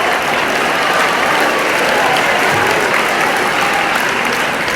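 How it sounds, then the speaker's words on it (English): Loud, dense applause from a high school crowd celebrating improved test scores, a continuous roar of many clapping hands without pause, close and even throughout. "Congratulations and applause."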